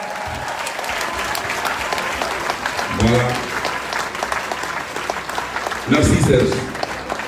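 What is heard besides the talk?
audience applause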